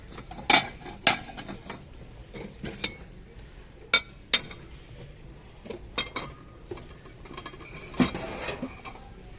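Ceramic dishware with a gold rim, a bowl and small and large plates, gets picked up and set down, giving scattered close clinks and clatters with quiet handling noise between them.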